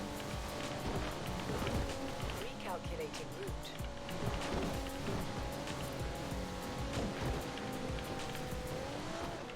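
Video game race in Forza Horizon 4 against a Nissan GTR: a steady engine drone with a sustained tonal whine, tire noise and scattered clattery impacts, loud and continuous, with a voice talking over it at times.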